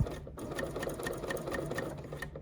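Sewing machine stitching across tote bag fabric, a fast steady mechanical whir with regular rapid ticking of the needle, close and fairly quiet, with no talking.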